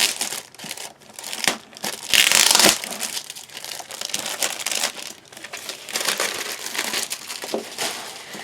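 Crinkly packaging from a stamp and paper haul is torn and unwrapped close up, with irregular bursts of crumpling and rustling and one louder tearing stretch, and no talking.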